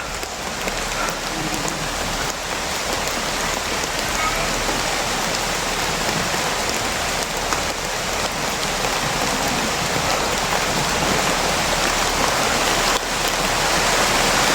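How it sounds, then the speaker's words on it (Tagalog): Heavy rain pours steadily and loudly, a dense unbroken hiss of drops on surfaces throughout, with no talking. "Malakas na yung ulan Brad."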